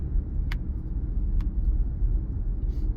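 Cars in Texas traffic rumble steadily close by, with a low engine drone and no voices.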